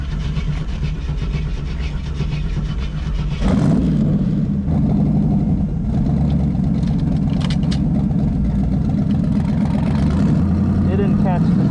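A car with a failing transmission, its engine droning steadily and then surging into a loud rev partway through, staying loud and rough as the shift fails to catch, with a voice talking over it.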